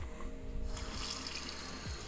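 Water runs steadily from a tap onto a cloth with a continuous rushing hiss, close and fairly even throughout.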